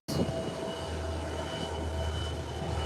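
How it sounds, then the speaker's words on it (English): A twin-turboprop Embraer 120 roars loudly down the runway on its takeoff run, a steady, powerful drone with a high whine riding on top that starts abruptly and holds constant. "You hear the roar of those engines."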